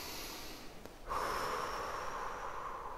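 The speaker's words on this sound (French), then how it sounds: "prenez une bonne respiration" A single deep breath drawn in sharply through the nose, then a longer exhale hissing out, close and quiet, alone with no talking.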